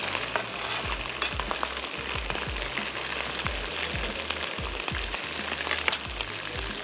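Tomatoes hit frying onion and garlic in a pan, a steady crackling sizzle with occasional stirring scrapes, close and continuous, no voices.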